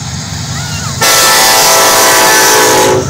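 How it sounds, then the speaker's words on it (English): Kansas City Southern 4164 freight train passing through rural Saint Elmo, Illinois, sounding a loud, sustained horn blast that starts abruptly and holds for about two seconds over rumbling wheels before cutting off. "Yeah, that's right, train coming."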